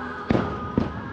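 Fireworks bursting over Disney World's Magic Kingdom, heard from a ride: two sharp, booming thuds about half a second apart over a steady background hum.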